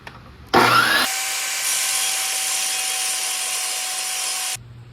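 A saw blade cutting a crooked wooden board in a shop, a loud close whine that starts abruptly, bites into the wood with a rougher burst, then holds a steady high-pitched cut for a few seconds before stopping suddenly.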